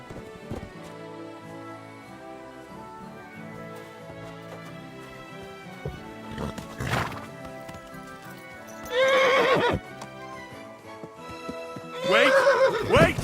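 A horse in the video game Kingdom Come: Deliverance 2 clip-clops steadily, then lets out two loud, shrill whinnies near the end, close up and with no talk over them.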